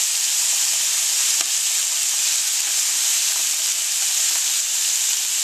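Chicken livers browning in a pan with chipotle garlic seasoning, a steady, loud hissing sizzle with a few faint pops, close and continuous.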